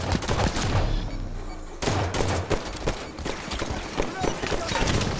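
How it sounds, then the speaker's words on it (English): Rapid gunfire from the bolt shot weapon in the shooter video game Halo 5: Guardians, loud bursts of repeated shots crackling throughout, with a brief break partway, mixed with other game sounds and voices talking. "Are you trying out the bolt shot? It's a three-shot lock-on gun now."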